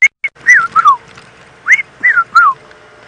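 A person whistles in imitation of a fish eagle's call during an evening safari drive, a series of clear, close, descending whistled phrases in short bursts with brief pauses between.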